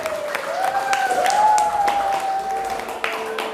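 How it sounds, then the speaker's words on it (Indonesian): A children's religious-studies class applauds together, steady clapping with a cheer-like tonal voice sweeping over it, fairly close and lasting throughout. "Tepuk tangan untuk kita semua"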